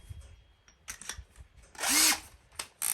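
Power drill boring cedar with a 1-inch Forstner bit, short bursts then a loud sustained whine as the motor spins up and cuts, close by.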